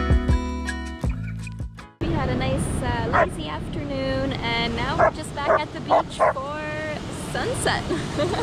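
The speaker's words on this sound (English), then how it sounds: "Dog's barking." A dog barks repeatedly in quick, sharp bursts close by, with some whimpering yips between, while voices murmur in the background.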